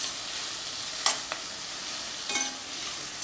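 Onions sautéing in a pan for a ridge gourd and prawn gravy, a steady soft sizzle with two brief clattering stirs of a spoon against the pan.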